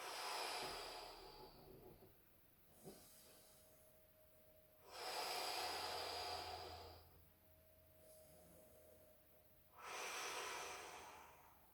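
Slow breathing in through the nose and long exhales out through the mouth repeat three times, each exhale a soft, close rushing hiss, with quieter pauses between them.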